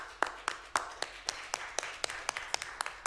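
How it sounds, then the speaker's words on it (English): A few people at a board meeting clap, sparse distinct claps in an irregular rhythm, fairly faint and close, with no talk over them. "I think that deserves a round of applause"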